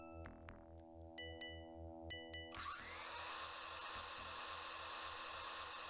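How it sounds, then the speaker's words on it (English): A vacuum cleaner in the point-and-click adventure game Flight of the Amazon Queen switches on after a few short chimes, then runs as a steady, loud whooshing drone to the end with no talking. "Thankfully, we have something that will get rid of all the dirt. It's the vacuum cleaner."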